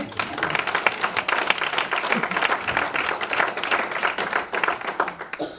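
A church congregation claps for the Lord, lively uneven hand claps from a room full of people with some sharper individual claps standing out, brief voices underneath.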